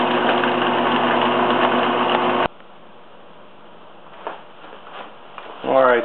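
A wood lathe turns a wooden turret blank for an 18th-century turret-top tea table, giving a steady close motor hum that cuts off abruptly partway, followed by quieter handling sounds and the machine starting again.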